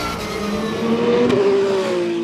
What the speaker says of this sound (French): Quelle mise en action d'Hervé Hubert sur sa Ferrari 488 GT3, partie 4ème